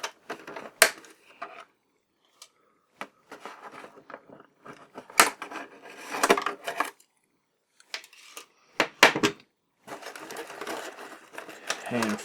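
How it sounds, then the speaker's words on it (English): Sharp plastic zip ties snap off with clicks in irregular bursts between quiet gaps, close up, with some handling rustle. "Let's go ahead and snap off the zip ties."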